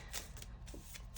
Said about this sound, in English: I invite you to do so while I'm shuffling, because it's going to take me a minute